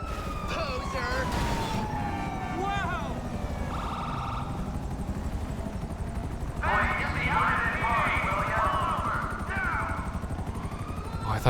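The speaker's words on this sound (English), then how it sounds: "Oh, I thought that was my helicopter." A helicopter in the game GTA 5 drones with a steady rotor throb, mixed with wailing police sirens and game sounds, while a person talks over it.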